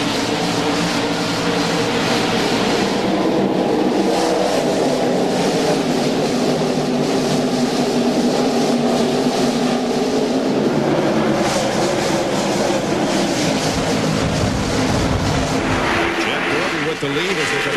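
A NASCAR stock car field at Darlington rolls out of turn four toward the green flag at the 1999 TranSouth Financial 400, a loud, steady engine drone under continuous race commentary.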